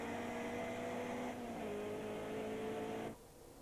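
A 1994 Caterham Vauxhall Challenge race car accelerates hard, engine tone holding steady then shifting pitch as it climbs through the revs, before cutting off abruptly near the end; loud and close.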